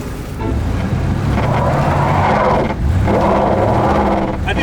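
An old luxury car's engine catches and revs, a loud steady motor drone that dips briefly and then climbs again under more throttle, with no talk over it.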